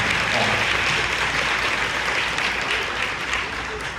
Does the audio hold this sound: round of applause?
yes